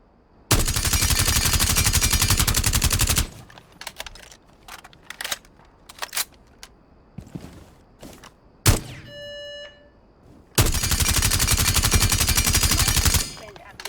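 Automatic gunfire in Rainbow Six Siege comes in two long, loud, rapid sustained bursts, separated by a stretch of scattered short clicks and taps with a brief beeping tone.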